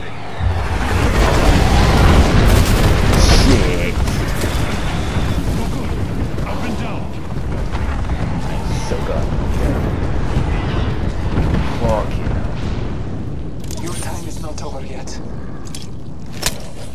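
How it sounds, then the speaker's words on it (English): Airstrike explosions in the video game Apex Legends roll on as a continuous loud rumble of booms and blasts, with a player talking over the barrage throughout. "Calling the airstrike."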